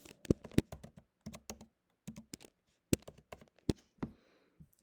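Typing on a computer keyboard: close, crisp key clicks in short irregular runs with brief pauses, alone without talk.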